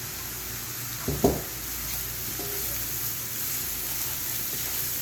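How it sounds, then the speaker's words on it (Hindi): Ginger garlic paste frying with onions in hot oil, a soft, steady sizzle broken early by a brief clatter as the paste goes into the pan, no talk. "अदरक लहसुन का जो पेस्ट है वो इसके अंदर डाल दूंगी।"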